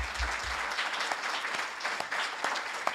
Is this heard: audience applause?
yes